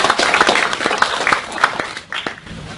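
Audience applause for award winners at an international awards presentation ceremony in Oslo, Norway: scattered, moderately loud clapping from a hall crowd, uneven and choppy, fading somewhat toward the end.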